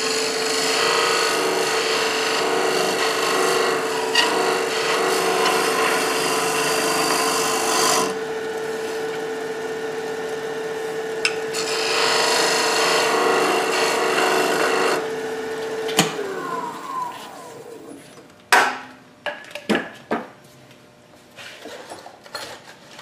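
A wood lathe gouge cuts an enclosed wooden form, giving a loud, continuous scraping rasp that pauses and resumes, then gives way to scattered sharp knocks and taps near the end.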